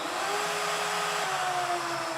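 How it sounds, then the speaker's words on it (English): The spindle motor of a SmartBench CNC router runs at a steady whine, a continuous close-up machine drone with a faint pitch shift partway through and no voices. "I can turn the spindle on and off."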